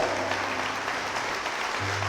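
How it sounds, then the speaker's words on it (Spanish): Congregation applauding at an evangelical church service, a dense steady wash of clapping filling the room for a couple of seconds with no gaps. "Ponte de pie y apláudele"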